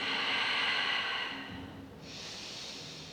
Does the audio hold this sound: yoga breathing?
yes